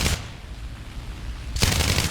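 Rapid aircraft cannon and machine-gun fire from a Bf 109 F-4 fighter in War Thunder, a dense burst at the start, then a steady roar, and a second loud burst near the end, with no voices.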